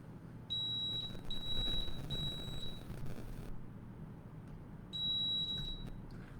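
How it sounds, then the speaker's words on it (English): An EasyPress heat press left open beeps in a high, steady tone, with one long stretch of beeps, a pause, then another burst, over low background hum. "my easy press is taking a beep because I just leave it open"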